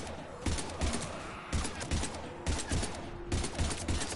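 Rapid bursts of automatic gunfire in the video game Mass Effect 3, loud and close, coming in repeated volleys about once a second with a short pause between bursts.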